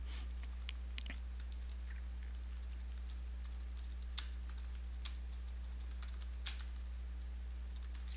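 Typing a journal ID on a computer keyboard while entering a new journal in Oracle General Ledger accounting software, heard as faint, sparse key clicks over a steady low hum, with a few louder taps standing out.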